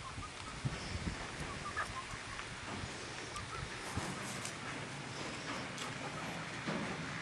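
Chickens cluck softly inside a hen house, scattered quiet clucks over a faint, steady indoor hum.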